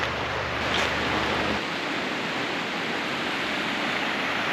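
Creek water flowing beside a small beach near Lillooet, British Columbia, a steady, broad rushing hiss that continues unbroken, with a low rumble fading early on.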